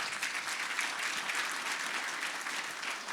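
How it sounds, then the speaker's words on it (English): A conference audience at a water infrastructure summit claps steadily for a keynote speaker, a dense, even wash of applause with no voices over it. "Yeah, that deserves a clap."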